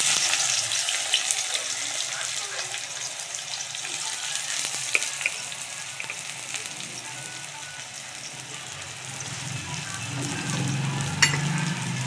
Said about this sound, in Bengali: তেল গরম হয়ে গেছে। এবারে পেঁয়াজ দিয়ে দেব।